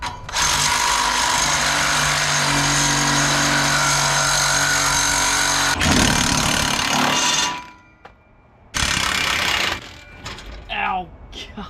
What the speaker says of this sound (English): I'm just gonna cut right through the gasket and both of the bolts